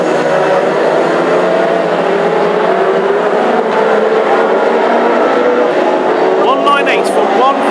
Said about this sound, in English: here comes Tim Foxlow on the inside of the 58 car